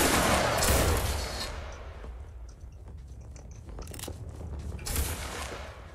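A massed volley of gunfire on command in an Ethiopia-themed 50-versus-50 battle: a loud, ragged crackle of many rifle shots at once, fading into scattered echoing pops, then another burst of shots near the end.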